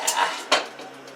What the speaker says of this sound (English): Let me get my slotted spoon and my colander out.